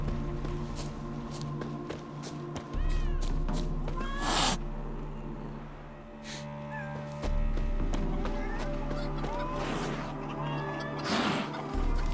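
A cat in the video game Witcher 3 meows a few short times, scattered over a steady game ambience with footsteps and other background sounds. The meows are moderately faint.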